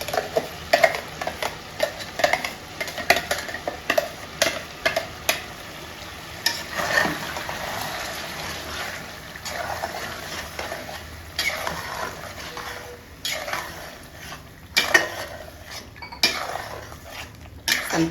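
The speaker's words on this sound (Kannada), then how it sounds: "ಈ ಸಮಯದಲ್ಲಿ ನಾವು ಮಸಾಲೆ ರುಬ್ಕೊಂಡಿದ್ವಲ್ಲ ಆ ಮಸಾಲೆ ಹಾಕ್ತಾ ಇದ್ದೀನಿ ನಾನು" A metal spoon stirs freshly ground masala into chicken curry frying in oil in a pan, with repeated clinks and scrapes against the pan over a soft sizzle, steady and close.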